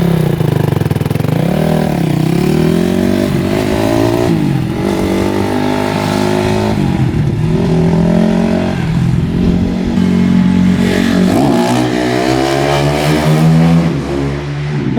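A 2010 Honda CRF250R motorcycle on a test ride, its engine loud and close, revving up and down repeatedly with rising and falling pitch through the whole stretch.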